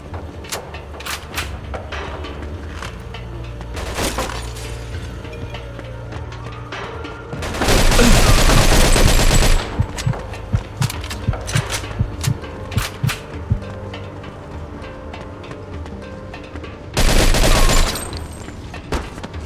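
A shootout in the video game Mafia 2, scattered sharp gunshots and clatter, then two loud sustained bursts of heavy automatic fire, with shouting in between.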